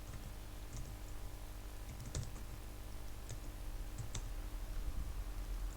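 Scattered key clicks from a computer keyboard as code is typed, faint and irregular with short pauses over a low steady hum.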